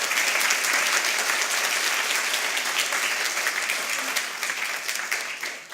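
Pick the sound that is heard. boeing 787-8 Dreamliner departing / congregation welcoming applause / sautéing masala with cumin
congregation welcoming applause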